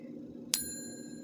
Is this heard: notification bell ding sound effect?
yes